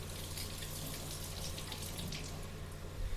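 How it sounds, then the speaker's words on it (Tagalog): Tap water runs steadily into a sink as an apple is washed, an even, moderately faint rushing stream with no one speaking. "Hugasan niya po yung apple."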